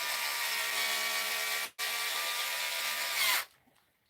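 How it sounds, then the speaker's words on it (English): An electric power tool whirs steadily while driving small screws into a machine to hold wires, with one brief stop midway and a loud continuous run that cuts off near the end. "I'm going to put little screws in there because just to hold the wires on."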